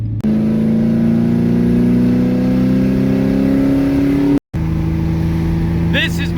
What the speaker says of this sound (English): This is my 2010 Ford Ranger, the best truck money can buy.